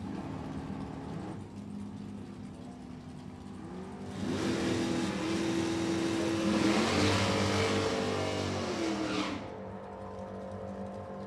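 Two drag racers at an NHRA meet, a Camaro against a little yellow Anglia, roar down the strip. A steady mid-distance engine drone swells into a loud full-throttle pass lasting several seconds, then drops back to a lower hum.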